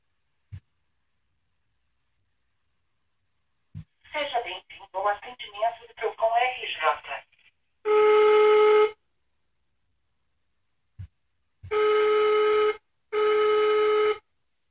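A telephone call placed during a consumer-rights program: a short sequence of dialing tones, then a loud buzzing ring tone that sounds three times in evenly spaced bursts, with silence between them.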